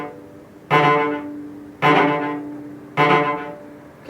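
Bowed string rivets played in bouncing groups, each group opening with an accented stroke that rings and decays. Three groups are struck at roughly even intervals, close and clear, with no talking.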